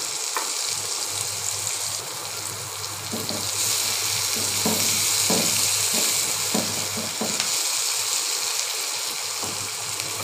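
Chopped onion fries in hot oil, a loud continuous close sizzle with scattered stirring clicks and scrapes running through it.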